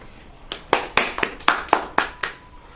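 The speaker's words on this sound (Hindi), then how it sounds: "ताली बजाओ।" A church congregation claps hands in unison at a Christian sermon, about nine sharp, evenly spaced claps at a steady rhythm, crisp and fairly close, with no speech.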